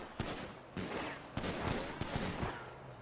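Rapid gunfire in a GTA roleplay game crackles in repeated bursts, several volleys of close, loud shots overlapping with almost no pause between them.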